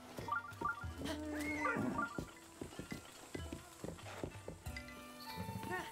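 Horse hooves clip-clopping on the ground in Breath of the Wild, a light irregular rhythm of soft knocks mixed with whinny-like tonal calls and game music, fairly quiet.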